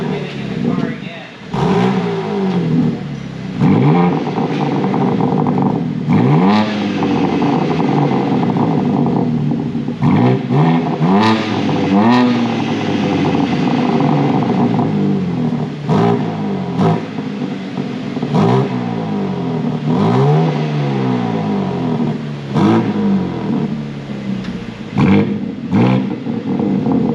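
A BMW G82 M4 Competition xDrive with a Supersprint H-pipe exhaust, started by remote start, revs up and down repeatedly nearby while people talk over it.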